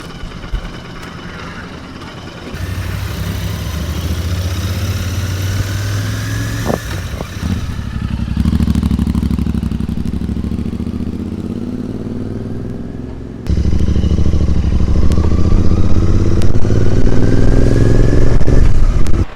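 A Royal Enfield GT 650 with a Mity Mike Customs aftermarket exhaust idles with a deep, throaty rumble, then revs up twice into louder, sustained engine roars, close by with no talking.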